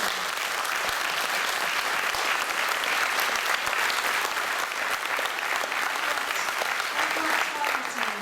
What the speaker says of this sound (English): So if you can all give them a round of applause.